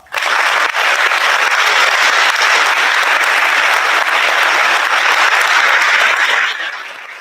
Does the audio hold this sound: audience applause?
yes